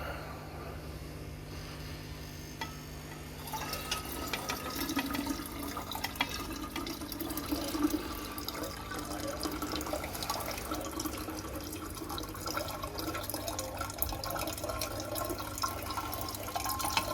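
Water wash being poured off from a lab beaker during gold refining, a quiet steady trickle and splash starting a few seconds in and running continuously, close and faint over a low hum.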